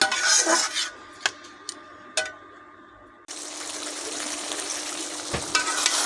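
Quail curry stirred in a pot just after water is added, with clattering utensil knocks and scraping in the first seconds, a brief pause, then a steady bubbling sizzle that continues to the end.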